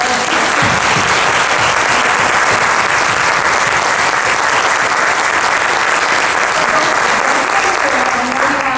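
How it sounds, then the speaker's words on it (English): A conference audience at a career and technical education event applauds young people, steady dense clapping that fills the whole stretch with a few cheers and voices mixed in. "I would love you guys to give these amazing young people a clap"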